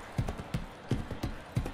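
Horse hooves clip-clop in the Motion Sports video game, five evenly spaced, fairly loud hoof thuds in a steady walking rhythm with faint background noise and no speech.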